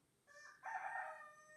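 A rooster crows once, a faint, distant cock-a-doodle-doo that rises and holds for about a second in a quiet setting.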